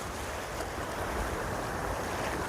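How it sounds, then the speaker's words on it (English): Ocean surf breaks on the shore at Playas del Coco beach, Costa Rica, a steady, close, broadband wash of water with wind rush and no voices over it. "Oh, here comes a wave, okay."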